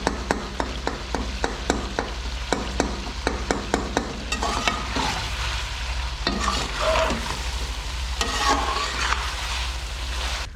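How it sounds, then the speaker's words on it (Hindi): Chicken karahi cooking in its pan while tomatoes are mashed in it: a run of sharp, evenly spaced taps gives way to scraping and squelchy stirring over a constant sizzle, close and alone without speech. "बस इसको मैंने थोड़ा सा और पकाना है और टमाटरों को मैश कर लेती हूँ।"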